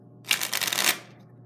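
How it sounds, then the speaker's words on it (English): Two packets of playing cards riffle-shuffled together, a single quick burst of fluttering card snaps lasting under a second, close and crisp against a quiet room. "I'm gonna shuffle these two packets again."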